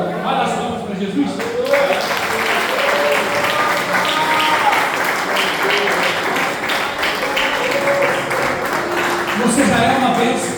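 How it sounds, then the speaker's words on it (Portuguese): A church congregation applauding during a sermon: sustained, dense clapping from many hands fills the room for about ten seconds, with voices mixed in beneath the applause. "Olha as palmas para Jesus."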